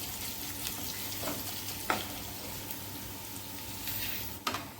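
Whole coriander seeds sautéing in ghee for panjari, a steady close sizzle and frying crackle with occasional sharper pops and stirring clicks throughout, no voices.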